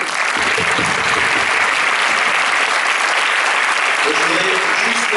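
Audience applause at a film premiere presentation, a dense, steady wash of many hands clapping that fills the whole stretch at full loudness, with a few voices faintly mixed in.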